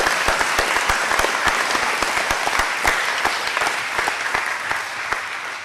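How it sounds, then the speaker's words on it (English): Upper school assembly audience applauding spring athletes at an awards event, a loud crowd of clapping hands with distinct sharp claps standing out near the microphone, fading slightly toward the end. "get another round of applause"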